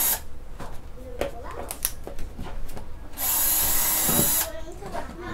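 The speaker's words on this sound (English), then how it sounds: "I'm just going to drill some holes in the top." A power drill whirs in a short, high-pitched burst of about a second, drilling holes in the top of a worm bin, surrounded by clicks, handling noises and workshop clatter.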